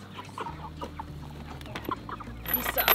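Meat-bird chickens on a homestead cluck several times at close range, with one louder squawk near the end, and no talking over them.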